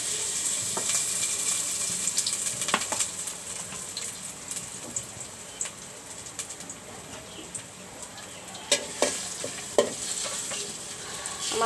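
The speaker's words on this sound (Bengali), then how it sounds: "এখন দিয়ে দিচ্ছি সরিষার তেল," Mustard oil and chopped garlic sizzling in a pan while being stirred, a steady close hiss with occasional scrape and clink accents, no talk.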